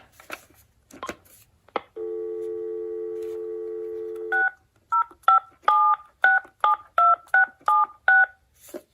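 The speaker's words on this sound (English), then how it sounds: "The dialing on this one sounds kind of weird." A steady dial tone followed by a quick run of about a dozen touch-tone beeps as a number is dialed on a BellSouth 2425 phone through a 1995 RCA RC920 wireless phone jack, a few clicks before.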